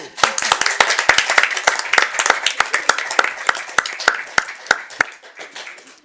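A council meeting audience claps and whoops in approval of an initiative, sharp individual hand claps standing out close and loud over a scattered background, gradually thinning toward the end.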